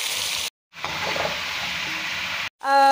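Potatoes and eggplant fry in a pan with a steady, close sizzle that breaks off twice, briefly, before a sharper hiss returns at the end.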